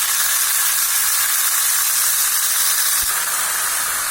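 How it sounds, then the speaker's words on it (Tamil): Three salted tomatoes sauté in a hot pan for paruppu urundai kulambu, making a loud, unbroken sizzling hiss that stays even throughout, with no voices. "இப்போ தக்காளி நல்லா இந்த அளவுக்கு நல்லா வதங்கணுங்க"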